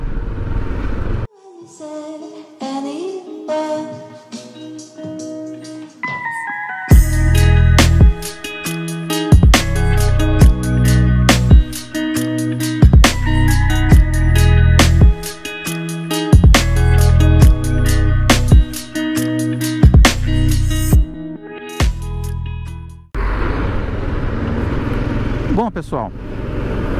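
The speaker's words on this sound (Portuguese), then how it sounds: "como a Royal Enfield Himalayan se desempenha no trânsito, no corredor" Royal Enfield Himalayan motorcycle riding through São Paulo traffic and lane-splitting, its single-cylinder engine revving up and dropping repeatedly through gear changes, loud and close, with wind and traffic noise.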